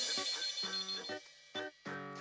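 A telephone rings while a call is placed to a gift shop, giving several short electronic bell-like bursts with gaps between them and a longer ring at the end, clear and fairly close with no talking.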